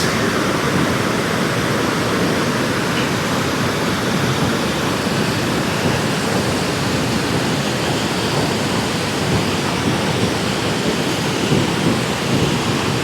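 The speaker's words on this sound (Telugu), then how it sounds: "రోరింగ్ చూడండి ఎలా ఉంది, చాలా ఫాస్ట్గా వస్తుందండి వాటర్ ఇక్కడ" A fast-flowing waterfall beside a ghat road on the NH-516E highway near Valasampeta roars as a steady, loud broadband rush of falling water, close and continuous throughout with no voices.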